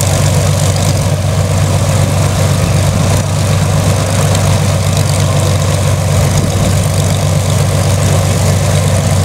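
A Spitfire's powerful piston engine idles loudly and steadily as it warms up, a deep, constant throbbing roar close by with no pauses.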